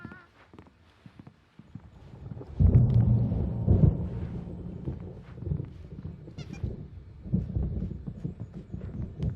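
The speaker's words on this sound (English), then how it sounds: "There's a storm coming. Oh, what a storm." Thunder from a storm in the video game Alan Wake Remastered: a deep, heavy rumble rolls in after a quiet opening and keeps churning loudly to the end, with no talking.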